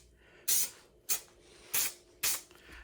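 Aerosol spray onto the carpet of a Plymouth Duster's folding rear seat, four short bursts about half a second apart, close and fairly quiet, with no talking.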